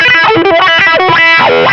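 An electric guitar played through a wah pedal with distortion and extra reverb: loud, gritty notes whose tone sweeps up and down in vowel-like swells, alone without talking.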